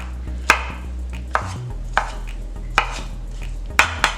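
Knife rough-chopping baby bella and oyster mushrooms on a cutting board, six sharp separate thuds at an uneven, unhurried pace, close and clear, with no talk.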